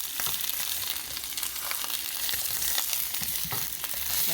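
Bell peppers browning in a frying pan give a steady, close sizzle with scattered crackles and pops throughout, and no voices.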